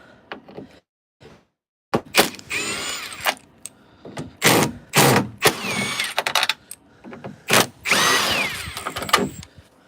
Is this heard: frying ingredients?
no